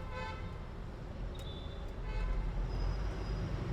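A truck horn sounds twice in busy roadway traffic, with sustained tones standing out over the steady rumble of engines and road noise, heard from a truck travelling from Surat to Kerala.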